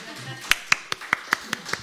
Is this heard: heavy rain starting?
no